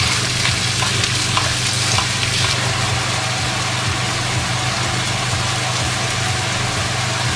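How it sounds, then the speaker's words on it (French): Minced meat sizzles loudly and evenly in a frying pan, a dense, continuous hiss that holds steady throughout with no speech over it. "Ensuite, je viens ajouter ma viande hachée."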